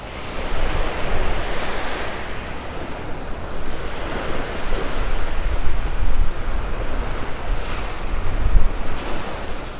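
Gusty wind buffets the microphone over steady surf breaking on Vanderbilt Beach in North Naples, Florida, a continuous loud roar with a few stronger gusts and no talk.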